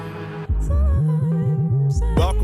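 Dark, spooky drill-bap beat sample run through distortion: a loud, continuous fuzzy bass-heavy loop with a rising and falling melodic line and short gritty stabs, no voices.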